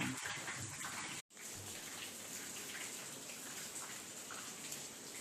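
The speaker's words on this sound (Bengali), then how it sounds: "বাইরে তো বৃষ্টি হচ্ছে ভালো রকম।" Soft, steady hiss of rain falling outside, heard from a distance and broken by one brief moment of silence.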